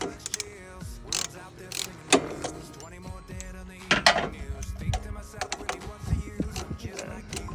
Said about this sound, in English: we're gonna grab an 11 mil and we're gonna crack these bolts loose